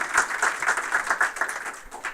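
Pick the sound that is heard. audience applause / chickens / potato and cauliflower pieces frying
audience applause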